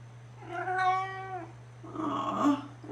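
A house cat meows twice indoors, first a long drawn-out call and then a shorter, rougher one, close by and alone over a steady low hum.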